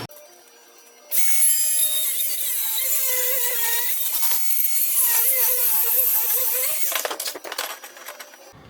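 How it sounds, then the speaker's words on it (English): An angle grinder cuts through a metal exhaust pipe on a Caddy van, whining at a high pitch close up for about six seconds before it winds down. "I'm going to get grinder and I'm going to cut that off"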